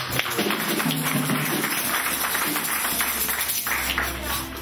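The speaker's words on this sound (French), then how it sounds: "Acclamons le Seigneur" A church congregation applauds the Lord with dense, steady clapping mixed with voices and background music.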